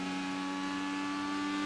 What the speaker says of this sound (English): Just listen to the engine sing here.